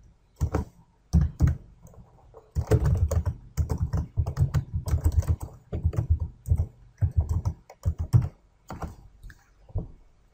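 Typing on a computer keyboard, close and clear, with bursts of rapid key clicks separated by short pauses, no voice over it.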